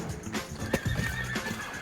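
A horse at a mountain home building site in Panama whinnies loudly while its hooves clip-clop in an uneven rhythm, close by and with no talk over it.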